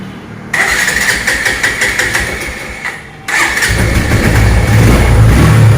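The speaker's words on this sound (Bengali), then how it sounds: "ইঞ্জিন সাউন্ড একদম নতুনত্ব রয়েছে" A used motorcycle engine cranks, briefly stalls, then fires up again and runs loudly nearby, its rumble growing stronger toward the end.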